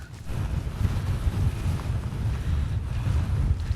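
Wind gusting across an exposed fell ridge near Clough Head in the Lake District, a steady low roar buffeting the microphone throughout with no voices.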